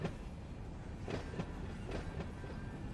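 A train passing in Run 8 Train Simulator, with a continuous rumbling roll and rhythmic clickety-clack of wheels over rail joints, steady and fairly close, with no voices.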